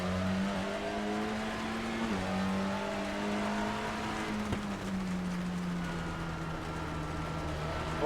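TCR touring race cars, including a Honda Civic, accelerate hard at Snetterton circuit. Engines drone in a steady, loud roar with a gear shift near the start and a sharp crackle midway.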